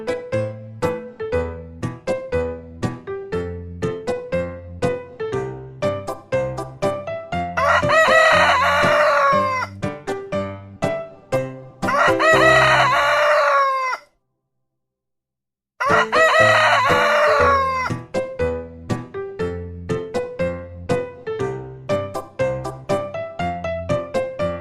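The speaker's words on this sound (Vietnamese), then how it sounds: "Con gà. Chicken. Con gà." A rooster crows three times, loud and close, each crow long and drawn out, while hens cluck in short repeated bursts all the way through. No one speaks, and there is no other background sound.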